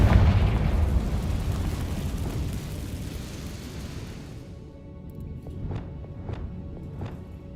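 Confringo spell explosion in Hogwarts Legacy, a loud booming blast whose rumble slowly fades, then a few bright, short chiming hits near the end.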